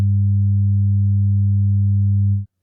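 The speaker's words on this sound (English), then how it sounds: "Now we'll add a little bit of second harmonic distortion to it." A steady 100 Hz sine test tone with added second harmonic distortion at 200 Hz holds constant and loud for about two and a half seconds, then cuts off abruptly into silence.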